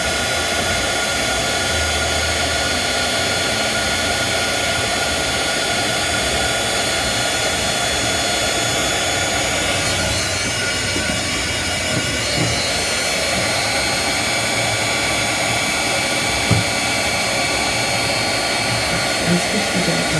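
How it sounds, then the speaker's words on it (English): Heat gun running steadily indoors with a loud, continuous broadband roar that holds for the full stretch, a slight dip midway and a few faint knocks near the end. "I'm turning on the heat gun."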